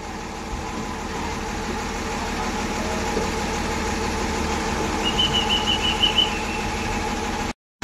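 A Tata BS6 MSRTC bus idles at Pune Swargate before a night run to Kolhapur, with a steady, loud engine drone throughout and a brief squeaky whine near the end before sudden silence.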